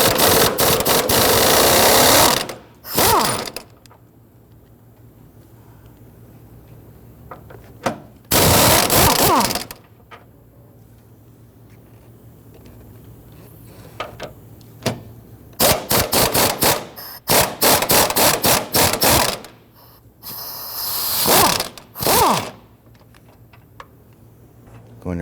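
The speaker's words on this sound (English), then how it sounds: "There are two big bolts on the back side, one on the front side. It's 18 millimeter. I'm going to go ahead, loosen, and remove these." Impact tool loosening and removing 18 mm engine mount bolts on a 2011-2019 Ford Explorer, loud rapid hammering bursts repeated several times with quieter clinks between.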